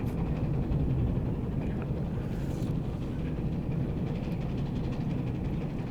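A train in the video game Abiotic Factor rumbles steadily and continuously, a dense low roar close by with no breaks for the whole stretch.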